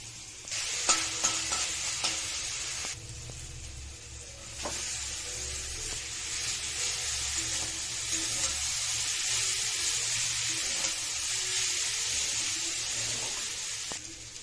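Chopped carrot and potato sizzle in hot oil in a pan for chowmein, a steady close hiss with a few spatula taps and scrapes early on, continuing evenly to the end.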